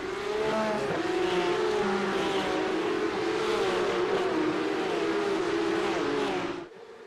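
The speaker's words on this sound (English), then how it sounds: "Let's ramp those engines up" Several Porsche Cup race cars in a video game race at COTA, engines revving and droning together at the start, loud and sustained with shifting pitch lines, then cutting off abruptly near the end.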